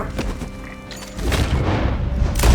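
Gunfire in the video game Red Dead Redemption 2: a few booming shots with a dense rumble building toward the end, the loudest burst arriving last.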